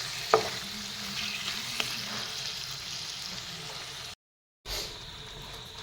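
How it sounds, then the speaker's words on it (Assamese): Chicken curry stirred in a pan after coriander powder goes in, a steady close sizzle with a few sharp scrapes of the spoon, then a brief drop to silence before the frying resumes. "সেইখিনিও তল ওপৰত কৰি এয়া লৰাই দিম মই"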